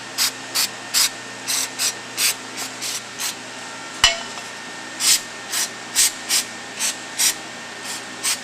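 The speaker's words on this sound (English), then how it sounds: "in order to clean them, you can take some brake cleaner" Brake cleaner sprayed onto clutch components during a clutch service, heard as a series of about fourteen short, evenly spaced hissing spray bursts, close and fairly loud, with no talking.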